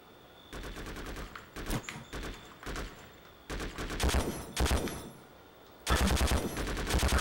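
Rapid bursts of automatic gunfire in the Conflict: Global Terror Xbox shooter while the player crawls prone, volleys of repeated shots coming in several loud stretches with brief lulls between them and no voices.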